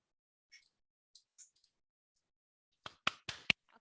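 A lone pair of hands clapping at a remote online seminar, heard as a few sharp, close claps bunched near the end after several faint scattered taps, with no talk.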